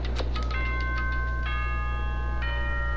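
A bright electronic school announcement chime from the video game Danganronpa rings out in a few layered tones over a steady low hum, with no talking.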